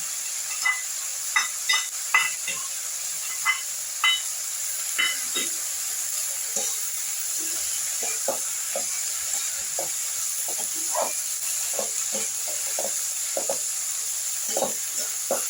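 Spices with chilli, chilli paste and turmeric for a Bengali meni fish curry being fried in a pan, giving a soft steady sizzle broken by irregular light scraping knocks from stirring, alone without talk.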